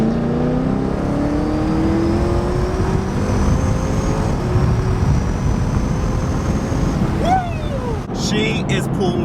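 A sixth-generation Chevrolet Camaro with a Gen V LT1 and a ported 87mm throttle body accelerates hard at wide open throttle, its loud engine tone climbing steadily inside the cabin before easing off near the end.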